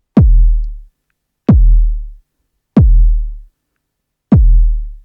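Four deep kick drum hits from an Akai MPC, triggered from a keyboard at a steady, slightly uneven pace, each with a punchy attack and long low-end decay, with no other sounds.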